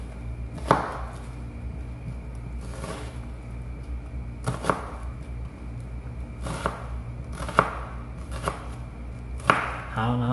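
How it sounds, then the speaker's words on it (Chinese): Onion diced with a knife on a cutting board for salsa: sparse, sharp knife knocks roughly every two seconds, close by, over a steady background hum. "然后在这边再把它这样对着切齐，这样出来了，洋葱丁就很小。"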